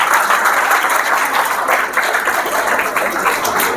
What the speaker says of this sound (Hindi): अगर मजा आ गया तो ताली बजाना